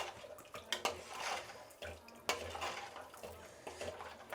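Salt is stirred into a pot of lentil water, with a spoon scraping and clinking against the pot in an uneven rhythm alongside light watery sloshing, quiet and close.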